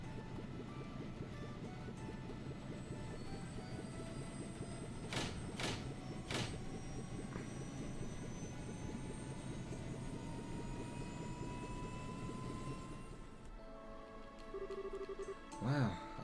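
An airship's engines power up for takeoff in Trails in the Sky, a steady mechanical drone with a few sharp bursts, quiet under voices, ending in a brief shift of tone.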